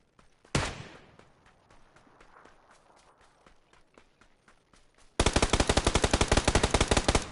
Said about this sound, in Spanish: Uno me ha visto. Me disparan.